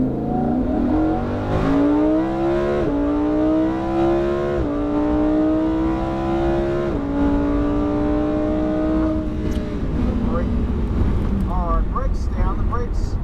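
A Lamborghini Huracan accelerating hard on a race track, its engine climbing in pitch through repeated upshifts, each gear change leaving a brief dip before it pulls again, loud and steady throughout, then easing off near the end.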